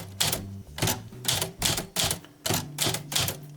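Smith Corona typewriter typing on thin toilet paper, close and loud: quick clusters of sharp key strikes in an uneven rhythm, with short pauses between bursts and no talking.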